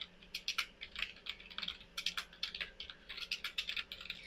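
Rapid, uneven clicking of fingers typing on a computer keyboard, close and clear, in quick bursts with brief pauses and no talking.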